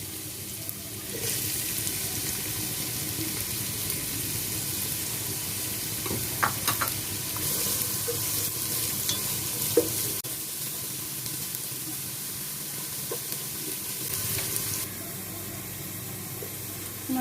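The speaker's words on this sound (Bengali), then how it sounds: "পেঁয়াজ বেরেস্তার জন্য পেঁয়াজগুলো প্রথমে আমরা ভেজে নিব" Onions for beresta frying in oil in a pan on the stove make a dense, steady hiss close by, with a few faint clicks and knocks, and no talk.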